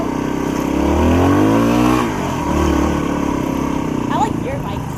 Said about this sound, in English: I like your bike. It's nice and loud.